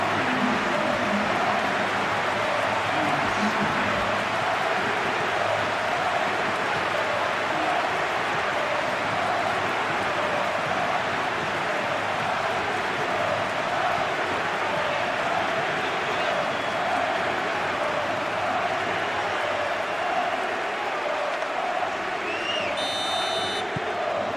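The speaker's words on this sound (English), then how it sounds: "The crowd are calling for this to be put to bed." Stadium crowd noise from an EA Sports FC match between Real Madrid and FC Barcelona, a dense, steady roar held at constant loudness for the whole stretch, with a faint whistle-like tone near the end.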